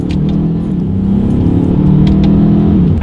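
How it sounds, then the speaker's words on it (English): A 2018 Ford Explorer with a twin-turbo V6 accelerates hard, its engine note climbing steadily in a loud, continuous rumble heard up close from inside the SUV, with no talking. "let's hit the gas and see how quickly we can get the new 2018 Explorer twin turbo V6"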